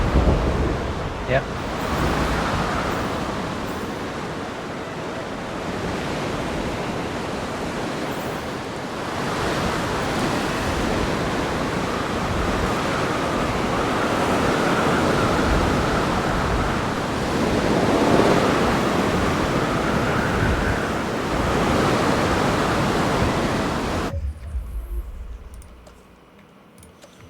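Stormy surf and wind batter a storm-racked island in a video game, a loud, steady roar of crashing water and gusts that runs unbroken for most of the clip, then drops away sharply near the end, with a single brief spoken word.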